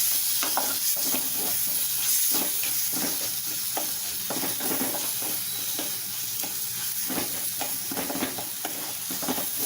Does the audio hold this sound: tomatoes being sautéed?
yes